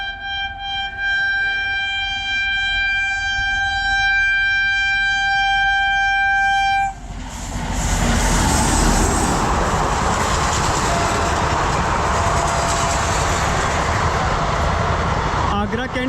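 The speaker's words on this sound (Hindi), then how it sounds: "आज की तीसरी ट्रेन देखते हैं कौन सी आ रही है।" Indian passenger express train, the Agra Cantt–Hoshiarpur Express, arriving: a loud sustained multi-tone horn blares for about seven seconds, then a heavy, close rumble and clatter of coaches rolling past fills the rest.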